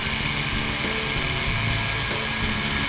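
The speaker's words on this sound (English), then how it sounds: "Let's go ahead and show you some of the cutting. We're going to take that metal away right down here to the shape of the stone." A Foredom rotary tool with a burr buzzes at a steady high pitch as it cuts away a metal V prong on a jewelry setting, close and continuous with no talking.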